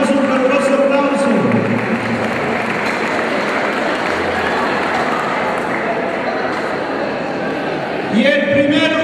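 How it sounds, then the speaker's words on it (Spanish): A school audience gives a warm round of applause for an eighth-grade art group delegation: loud, dense clapping that runs steadily throughout, with brief voice or tonal sounds at the very start and end. "les damos un caluroso aplauso"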